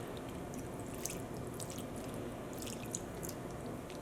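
Water poured into a plastic bag and squished by hand, giving wet dripping and squelching sounds that sit steadily close up with no talk.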